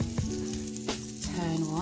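Oaty banana pancakes fry in a pan with a close, steady sizzle and crackle, plus a few brief tonal squeaks and scraping touches.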